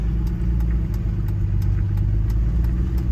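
A car drives slowly along a rural road on the outskirts of a very small northern British Columbia town, its steady mid-pitched engine drone and road rumble continuous and close throughout, with no voices.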